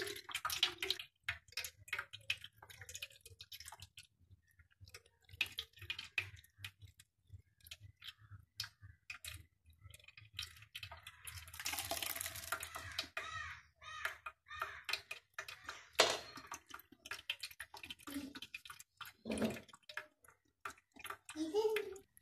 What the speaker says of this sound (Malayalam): ഈ വെള്ളക്ക അടിയിലേക്ക് ചോർന്ന് പോകും.